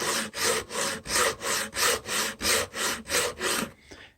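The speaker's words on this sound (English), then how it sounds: "we take our sanding stick, lay it down, and then we work this back and forth." A sanding stick rubs back and forth across a wooden edge in about ten even, rhythmic rasping strokes, loud and close, with no voices.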